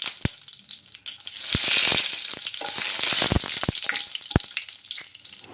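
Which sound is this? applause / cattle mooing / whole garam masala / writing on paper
whole garam masala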